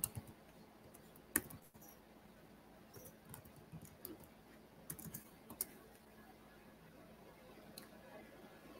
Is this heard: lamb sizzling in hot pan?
no